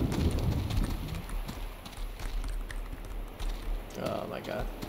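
Donkey hooves clip-clopping in the horror video game Clive Barker's Undying, a steady run of hollow clops mixed with game ambience and a voice talking over it.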